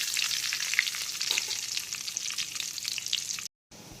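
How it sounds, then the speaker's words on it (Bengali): Dry red chillies, a bay leaf and panch phoron crackle and sizzle in hot oil, a busy steady spattering that cuts off briefly near the end. "এই ফোড়নগুলোকে একটু ভালো করে প্রথমে ভেজে নিতে হবে।"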